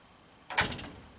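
The newly built door of a tiny house swings shut with one short, close knock and a quick rattle that fades, with no voices.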